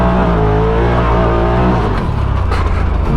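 A 180 hp Polaris RZR Turbo R side-by-side revs hard in rear-wheel drive mode while sliding on dirt. The loud, close engine holds a steady drone, then drops and turns rougher as it changes pitch.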